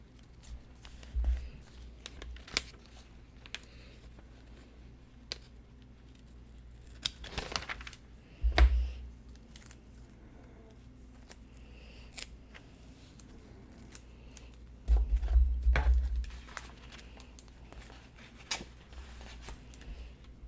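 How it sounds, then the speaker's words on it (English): Scissors snip washi tape into pieces during bold crayon journaling, giving a few soft, close cuts scattered across otherwise quiet paper handling, with the louder snips clustered near the middle and later. "take the washi tape and just lay it across the top and then just cut it into pieces"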